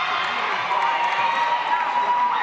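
A home crowd in Pullman roars during a girls' basketball game right after a made free throw: a loud, dense, steady wall of cheering and yelling that lasts the whole stretch, with a thin whistle-like tone running through it.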